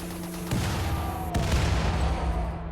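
Turret explosions in the RimWorld video game come as rough bursts of gunfire-like booms, with two sharp impacts leading into a dense, sustained rumble of blasts.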